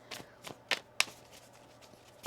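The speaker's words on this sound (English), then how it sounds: "One more shuffle here." Tarot cards are shuffled by hand in a series of crisp, irregular riffles and slaps, close and fairly quiet, with no voice over them.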